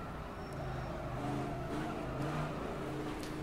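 AC Cobra 427 racing car in rFactor 2 with its big V8 engine droning steadily under power, the note shifting pitch slightly as it accelerates and holds revs, continuous and close throughout.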